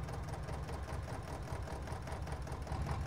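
A small Zeta tractor idles in the Farming Simulator 22 video game, a steady low mechanical chug with a faint knocking rhythm, quiet and even throughout with no voices.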